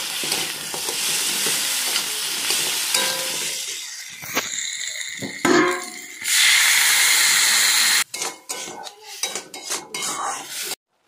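Water poured into a pan of sizzling crab curry: a loud rush of hissing and boiling steam after clattering of utensils and stirring, then scattered scrapes and knocks of the pan at close range.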